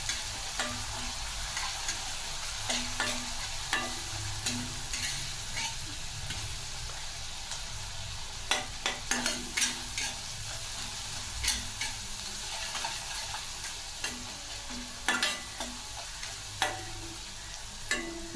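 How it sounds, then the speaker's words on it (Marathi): Green chillies fry in hot oil with a soft continuous sizzle, overlaid by intermittent clicks and scrapes of a spatula stirring in the pan, fairly quiet and close. "मिरची तेलात असं 2 ते 3 मिनिट छान असं फ्राय करायचं आहे।"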